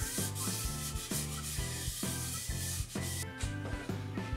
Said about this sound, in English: I'm going to buff it with a clean cloth